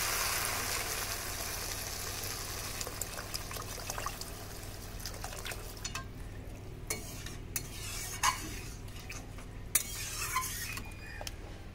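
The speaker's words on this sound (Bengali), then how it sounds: "এবার দিয়ে দিচ্ছি জল।" Water poured into a pan of fried spice paste for a Bengali rui fish curry, giving a steady hiss and sizzle with a few clinks and scrapes of stirring, fairly quiet and without talk.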